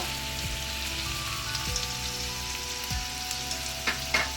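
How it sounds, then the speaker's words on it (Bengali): Garlic paste hits a hot pan of oil while making a Bengali prawn rezala, giving a steady crackling sizzle with a few scattered pops and light utensil knocks, close and fairly loud, with no talking. "এবার আমি রসুন বাটাটা দিয়ে দেবো"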